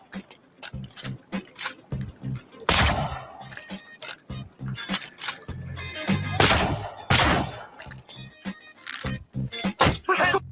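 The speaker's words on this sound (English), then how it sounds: "The guy's pulling out pistols." Pistol gunfire and combat clatter in the video game Oblivion, with sharp bursts of shots and mechanical clicks in an irregular rhythm, loud and close, with brief game voices between.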